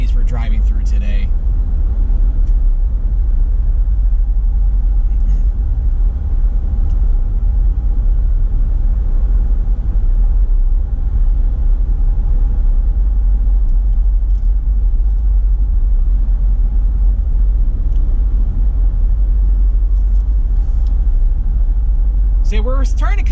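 A car drives steadily through Commerce Township, Michigan, with a constant low road rumble and engine hum for the whole stretch, and a voice speaks briefly near the start and end.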